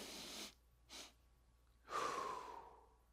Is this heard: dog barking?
no